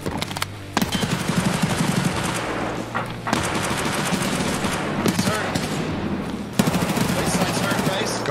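Gunfire in a realistic military shooter video game: dense, loud automatic bursts and rapid shots fill the whole stretch with brief gaps, close and harsh, with players' voices faintly mixed under the firing.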